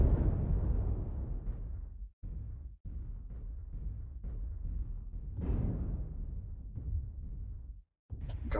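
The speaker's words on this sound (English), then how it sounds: "Gunfire's open somewhere" Gunfire and explosive bursts from the video game Battle Brothers during a 2v2 match, a dense, continuous rumble of booming blasts with brief gaps, loud and close throughout.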